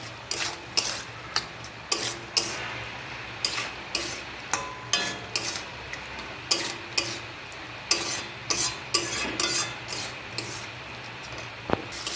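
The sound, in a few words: stir-frying okra and potato curry in a pan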